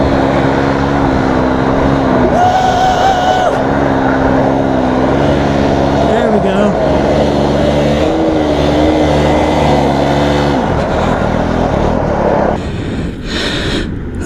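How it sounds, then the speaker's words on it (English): A dirt bike stuck in soft sand runs pinned wide open in second gear, its engine screaming loud and close with a steady, strained drone. Voices and wind noise sit over it. "This bike is pinned open."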